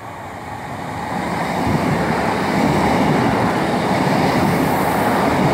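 A diesel train bound for Blackpool North rolls into Poulton station, its broad rumbling roar building steadily from moderate to loud and holding as it draws close, with no talk over it.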